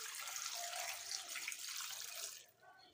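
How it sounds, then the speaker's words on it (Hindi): About half a liter of water pours steadily into a pot of chicken and onions, a loud continuous splashing gush that tapers off at the end, close up with no talking. "तकरीबन इसमें 1/2 लीटर हम पानी डाल देंगे।"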